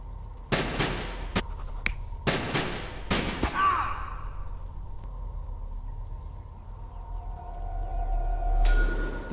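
Gunfire in the video game Sherlock Holmes Chapter One, including a shotgun: several loud, sharp blasts come in quick succession, then fade into a quiet ringing tone and low ambience.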